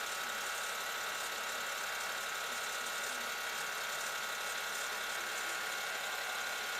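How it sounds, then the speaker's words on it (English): BMW air suspension actuator pumping steadily as the car rises to full height, a continuous mid-pitched motor hum and buzz that stays even throughout, close by, with no talking. "I can hear the actuator."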